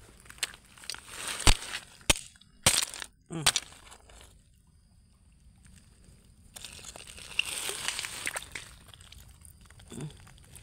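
Stones picked at a rocky spot are struck and cracked apart, several sharp clacks and crunches scattered through the first few seconds, then a stretch of crinkly rustling and handling noise.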